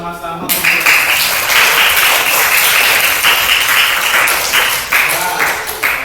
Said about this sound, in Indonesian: Mari kita tepuk tangan bersama-sama